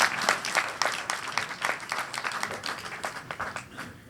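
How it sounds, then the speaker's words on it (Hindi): An audience at a standup comedy show breaks into steady applause, with dense clapping from many hands that holds at a lively level and tapers slightly toward the end. "तालियां बज जाएं।"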